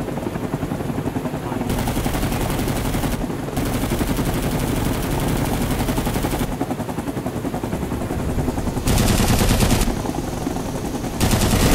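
Sustained machine gun fire in the video game Rising Storm 2 Vietnam, loud and close. Rapid continuous rattling bursts run with almost no gaps, and a helicopter-like rumble sits underneath.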